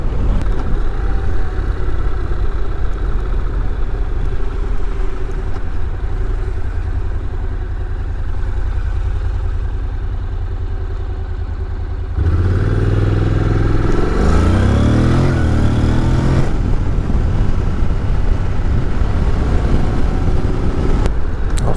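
A 2024 Honda NC750X DCT motorcycle in A2 trim rides along with a steady, loud engine rumble, then opens up midway into a brief burst of harder revving before settling back to a cruising drone.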